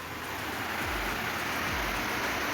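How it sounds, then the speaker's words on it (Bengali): Steady morning rain pours down, a dense continuous hiss of drops on surfaces, loud and close, with no voices. "খুব ভালো লাগতেছে আজকে সকালবেলা বৃষ্টি দেখে।"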